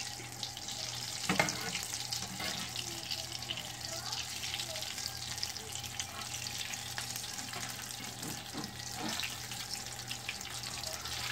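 Potato patties frying in hot oil in a small pan, a steady close crackling sizzle with a few clicks and knocks on top.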